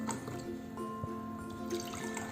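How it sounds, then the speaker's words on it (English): Water is poured into drinking glasses at a small indoor science demonstration, giving a short, close trickle and splash with rising, ringing fill tones. "First, I will pour the water in both the glasses."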